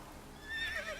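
Roach the horse from The Witcher 3 whinnies once, a faint, short neigh that rises near the end of the moment.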